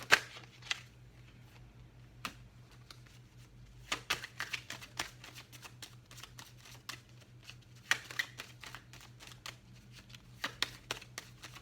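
Tarot cards shuffled and drawn during a Taurus reading, soft close riffles and sharp snaps scattered irregularly, quiet and alone with no talking.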